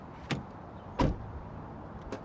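Flush door handles on a 2019 Range Rover Evoque extend on unlock, giving a few short mechanical clunks and whirs, with one stronger thud in the middle, close by and fairly quiet.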